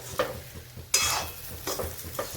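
Masala for stuffed capsicum (shimla mirchi) stirred in a pan, a close sizzle broken by a few quick scraping spoon strokes, one sharp clink midway.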